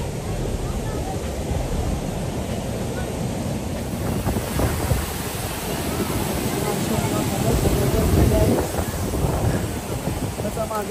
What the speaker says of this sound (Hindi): हवा भी बहुत ज़्यादा चल रही है।